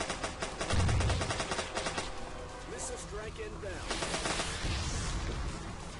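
SMG fire in the zombie shooter Zombocalypse 2, heard as rapid, evenly spaced shots in sustained bursts over game noise, fairly loud and close.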